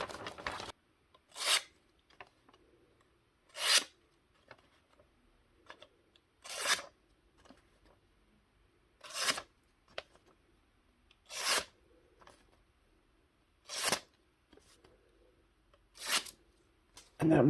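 A knife freshly sharpened on a WorkSharp Field Sharpener slices through paper in about nine crisp rasping strokes, evenly spaced and close, with faint rustling between cuts and no speech.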